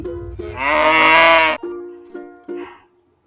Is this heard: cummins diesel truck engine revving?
no